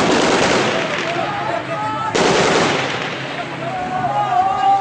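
Dense, crackling bursts of heavy gunfire aimed at street protesters fill the scene in Homs, loud and continuous, with a sharp jump in intensity midway and distant shouting voices underneath.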